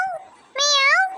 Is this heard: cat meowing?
yes